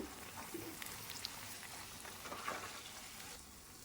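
Potato chops (aloor chop) fry in hot oil, a steady soft sizzling hiss with occasional small crackles and pops, fairly quiet and without speech.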